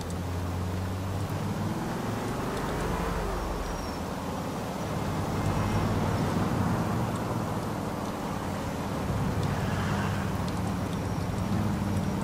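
Rain falls at night in Liberty City in Grand Theft Auto IV, a steady broadband hiss with a low traffic rumble underneath and no voices.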